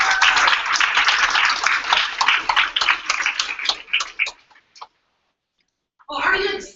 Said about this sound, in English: everybody give Miss Patrice Madison a very nice warm applause